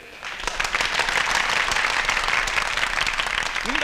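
A cheering crowd breaks into loud, dense applause at a Tamil rally-style speech scene. The clapping rises quickly and holds steady throughout, with scattered shouts mixed in.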